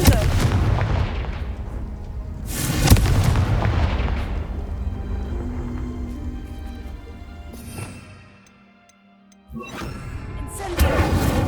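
Confringo blasting spells explode in Hogwarts Legacy, a series of heavy booming blasts spaced several seconds apart, each with a rumbling tail; the blasts are loud and close.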